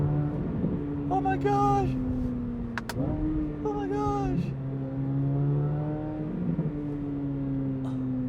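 A C8 Corvette Z06 with an 8-speed dual-clutch gearbox holds around 4,500 RPM in a steady, loud interior engine drone with rising harmonic swells. A voice briefly exclaims over it.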